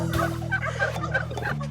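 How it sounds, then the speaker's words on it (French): Turkeys gobbling in the Gévaudan countryside, a steady fowl chorus with repeated warbling calls over a low drone, fairly close and continuous throughout. "Regarde, c'est des dindons."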